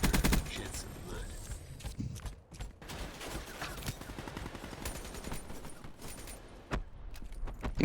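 Rapid bursts of automatic gunfire from the video game Black Ops 3 crackle almost continuously, with sharp shots stacked in quick succession and a voice talking over the action.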